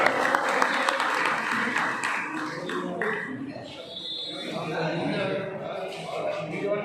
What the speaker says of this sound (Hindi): इनके लिए एक बार उनका तालियां बजाना।